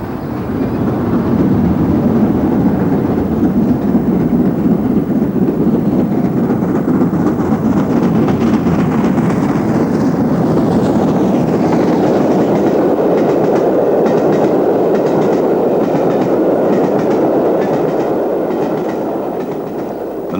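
An L.M.S. steam locomotive runs on the main line, a loud, sustained rumble of wheels and motion rolling past nearby, with a steady roar that swells and fades slightly over its length.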